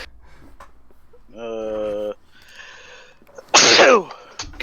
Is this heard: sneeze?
yes